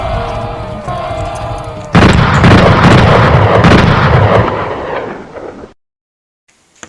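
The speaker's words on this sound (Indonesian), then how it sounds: "Pada tahun 1784 terjadi pertempuran di Teluk Ketapang. Dalam pertempuran tersebut, Raja Haji tewas tertembak." Battle gunfire and artillery from a 1784 sea battle at Teluk Ketapang: a loud, dense roar of continuous booms and crackling shots that runs for several seconds, then cuts off abruptly into silence.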